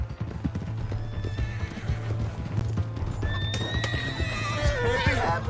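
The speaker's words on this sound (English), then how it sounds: "Hey, that's my horse!" A horse in Red Dead Redemption 2 gallops with steady clip-clopping hooves, then lets out a loud, drawn-out whinny near the end, amid game ambience and background noise.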